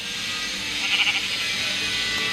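A sheep in a video game bleats once, a wavering, moderately loud cry over a steady hiss of background noise.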